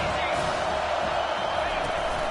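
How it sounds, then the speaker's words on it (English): Roaring stadium crowd at an Oklahoma State versus Notre Dame college football game, a broad continuous wash of cheering and noise holding steady at full volume throughout. "this crowd is turning it up a notch"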